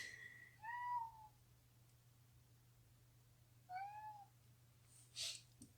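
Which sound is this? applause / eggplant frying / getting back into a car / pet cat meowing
pet cat meowing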